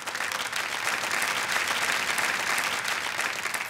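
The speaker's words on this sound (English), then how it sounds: "Let's give him a big round of applause." An audience applauds a contestant at a televised children's spelling bee competition with dense, continuous clapping that stays loud and even throughout, with no voices on top.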